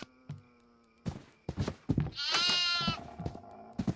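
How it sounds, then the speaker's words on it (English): A goat in the kitchen of the horror video game Devour lets out a loud, wavering bleat lasting about a second, set among thumps and other game sounds. "Oh, there's a goat in the kitchen."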